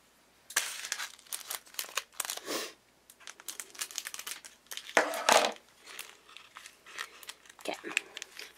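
A plastic packet of gel balls is cut open with scissors, giving close crinkling, rustling and sharp snipping in irregular bursts, with a voice briefly heard among them.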